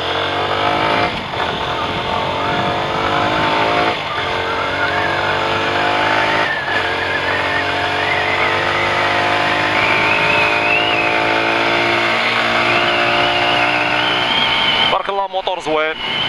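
A Beker B2 CR3 125cc motorcycle engine revving loudly and continuously nearby while riding, pitch rising and falling through gear changes, ending with a brief burst of buffeting.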